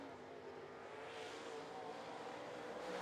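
Race car on a qualifying lap at Volunteer Speedway, a steady loud engine drone held close throughout with no pause.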